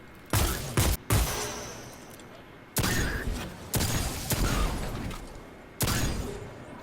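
Gunshots in Destiny 2 come as loud, close bursts of rapid fire, several volleys separated by short pauses, each with a heavy crack and a lingering rumble.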